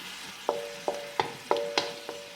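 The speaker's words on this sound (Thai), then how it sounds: "เดี๋ยวเราก็ค่อยๆมาผัด ผัดถั่วกันเนาะว่านี่คือการทำไส้นะคะ" A spatula scrapes and taps in a pan as beans are stir-fried with onion and garlic for a Thai dessert filling, with about six sharp strokes at an uneven pace over a faint sizzle.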